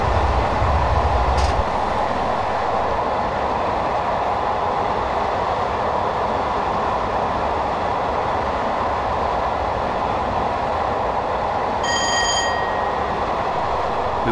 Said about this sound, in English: I've just shut off the power to allow the train to coast.